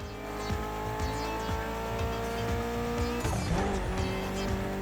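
Evo car driving in The Crew Motorfest video game: a steady engine drone with rising revs and a burst of tire noise midway, loud and continuous, with no talking.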